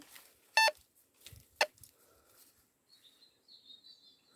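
Metal detector beeping while swept over a rock during a treasure hunt: two sharp, short electronic tones stand out, followed by fainter high chirps, heard outdoors with no talking.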